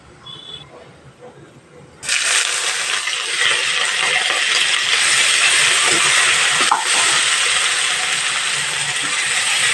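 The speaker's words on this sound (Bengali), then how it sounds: "দু তিন মিনিট মতো একটু ভেজে নেবে গ্যাসের ফ্লেমটা মিডিয়ামে রেখে" Panch phoron, five green chillies and chopped onion hit hot oil over a medium gas flame, a sudden loud sizzle that bursts in after a quiet moment and keeps hissing steadily up close.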